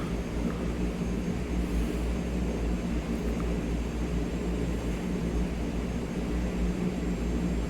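A Canadair CL-415 amphibious aircraft taxiing in Microsoft Flight Simulator 2020 at an airport in southern France, its engine droning steadily and evenly throughout with no talking.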